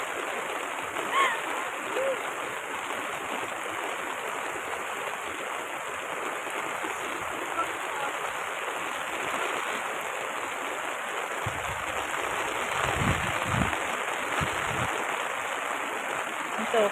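A river in flood at Naugsol, Zambales rushes hard during rain, a broad steady roar of water that runs without a break, with a few low thumps near the end.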